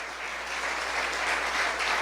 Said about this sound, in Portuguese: Com alegria, Senhor, nós aplaudimos a tua palavra.